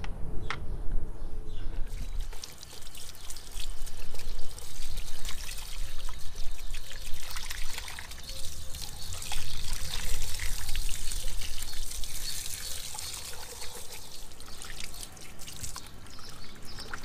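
Water pouring and splashing over a car ventilation fan housing being cleaned, with its motor speed resistor removed; a continuous close trickling, spattering stream with fluctuating intensity throughout.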